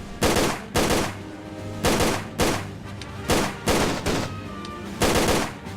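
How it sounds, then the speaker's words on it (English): Gunfire from Lara's weapon in Tomb Raider: Angel of Darkness, a steady series of about nine sharp, loud shots in quick pairs and singles, each with a short decaying tail. "Get a couple shots off"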